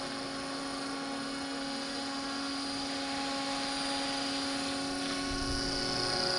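A scale RC helicopter hovering nearby, a steady high-pitched turbine-like whine with strong tonal rotor hum that holds even and close throughout, no voices.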